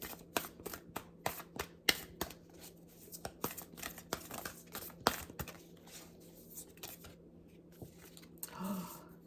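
Tarot cards being shuffled and drawn by hand, a rapid series of sharp riffling snaps and flicks, close and fairly quiet, with some soft handling rustle and no talk.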